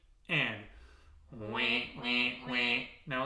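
A person imitates a duck, giving several loud, nasal quacks one after another with a short pause after the first, during a vocal warm-up exercise.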